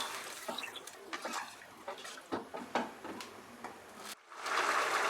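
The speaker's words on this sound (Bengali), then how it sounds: "ফাইনালি এর মধ্যে আমি অ্যাড করে দিচ্ছি জল।" Water poured into a pot of thin curry on the stove, a faint splashing, trickling stream with brief clinks, pausing for a moment before a final steady pour.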